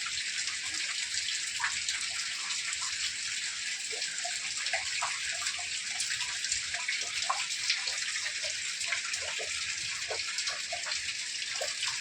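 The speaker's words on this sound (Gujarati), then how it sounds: "આવી રીતે વરસાદ આવે" Steady heavy rain pours down in one continuous, even hiss with faint scattered drips and splashes, close by and with no voices.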